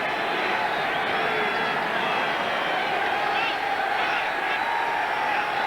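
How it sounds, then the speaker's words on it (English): Home crowd of 49ers fans at a 1986 football game against the Vikings, a loud, continuous, roaring stadium din that reads as a chant of support for the defense on a third down, steady throughout with no clear break. "The crowd now chanting defense for the hometown 49ers"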